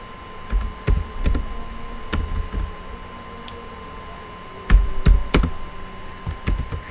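Keys clatter on a computer keyboard as text is typed into Microsoft Word, in close, crisp bursts of several strokes separated by short pauses, with no talking.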